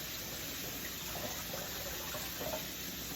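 Tap water runs steadily over green beans in a sink, a soft continuous splashing rush at low level, close by.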